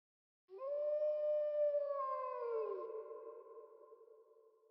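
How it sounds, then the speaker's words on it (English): A long, wavering howl from Foxy the pirate, the animatronic fox in the game Dayshift at Freddy's 3, rising in from silence, holding steady, then sagging in pitch and fading slowly as if echoing up from a canyon, alone without voices. "I can hear him, Foxy the pirate, howling from the depths of the canyon"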